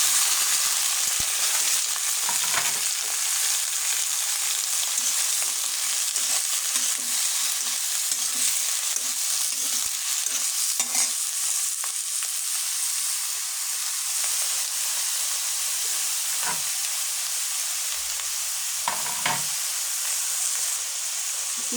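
Chopped vegetables hitting hot oil with onions already browned in a pan, a steady loud sizzle and hiss running the whole time, broken by occasional stirring clinks and scrapes.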